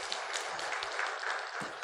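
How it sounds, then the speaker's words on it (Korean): A church congregation claps during a Sunday worship service, sending off a young man leaving for military service; the applause is steady and fairly faint, a soft continuous wash of many hands with no talking over it. "잘 갔다 오라 박수 한번 하겠습니다."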